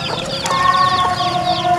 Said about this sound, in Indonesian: Kita ketemu ayam yang anaknya ada jumlahnya berapa tuh?